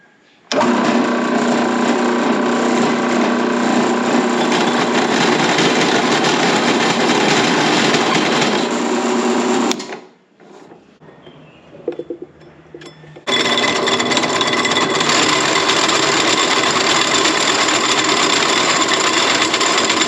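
A new hole saw cutting a notch: a loud, steady motor whine with grinding runs for about ten seconds, a short break with a few clunks, then the cutting resumes just as loud.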